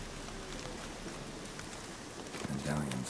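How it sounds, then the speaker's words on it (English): Rain falls in Velen in The Witcher 3 as a continuous broadband hiss of drops. A voice briefly speaks near the end. "Looks like rain."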